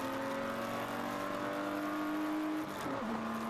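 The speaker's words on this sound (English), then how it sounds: "Gets that upshift done" A race car at Road America in the ChampCar Endurance Series holds a steady high engine note, then an upshift drops the pitch near the end; the engine sounds at moderate distance and no one speaks.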